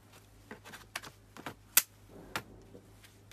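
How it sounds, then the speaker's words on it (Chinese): A laptop battery is pulled from the underside of the computer, with a quiet series of plastic clicks and taps and one sharper snap as it comes free. "首先我们把电池给它拿下来"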